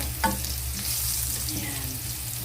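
Chopped garlic sizzles and crackles steadily in very hot oil with pepper for pork giniling, with a stirring scrape near the start, close and moderately loud.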